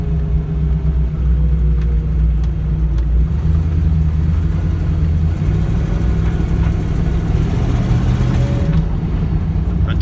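A Jeep Cherokee with a newly fixed track bar rumbles steadily from inside the cab, a loud low engine and road drone running unbroken with no talk.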